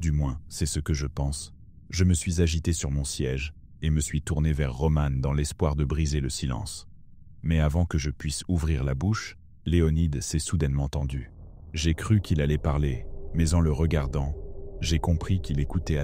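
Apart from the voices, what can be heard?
No everyday noise stands out behind the speech.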